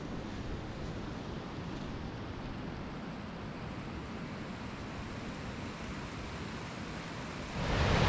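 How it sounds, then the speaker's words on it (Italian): A small mountain waterfall on the normal route up Becca di Monciair from Pont in Valsavarenche, Aosta Valley, gives a steady, dense rushing roar with no pauses that swells louder in the last moment. "questa bella cascatella"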